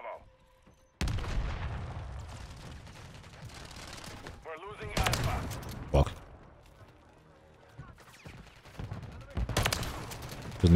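Rifle fire in MW3 multiplayer with a Lockwood 680, bursts of loud shots arriving in clusters separated by quieter gaps, mixed with game announcer calls and faint background action.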